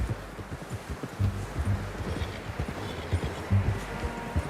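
Horse hooves clip-clopping at a steady walking pace in the video game Red Dead Redemption 2, close by, over a bed of outdoor wind and rustle.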